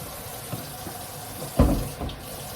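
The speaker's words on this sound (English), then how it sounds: "We're going to wash our hands." Tap water runs into a sink while hands are washed before preparing a spinach wrap lunch; a soft steady trickle with a brief louder splash near the middle, close by and without talk.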